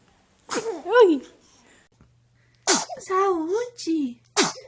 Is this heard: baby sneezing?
yes